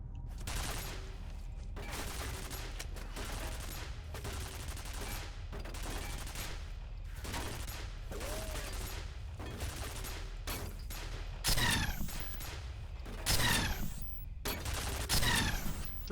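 Repeated gunfire bursts from the video game F.E.A.R., loud and close, in rapid volleys spread across the whole stretch with brief gaps, heavier blasts near the end.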